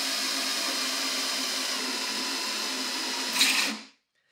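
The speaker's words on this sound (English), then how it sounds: "as you get close to the surface of the plastic, you want to slow your drill and just gradually scratch the surface" A drill slowly scratching the surface of a plastic part, a steady high-pitched grinding whir held for about three and a half seconds, rising briefly louder before cutting off into silence.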